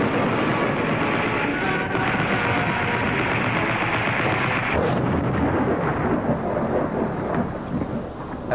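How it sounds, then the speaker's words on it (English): A staged exploding wall from a television visual effects department goes off as a sustained, loud, rumbling blast with crashing debris that fills the whole stretch and eases slightly near the end. "An exploding wall?"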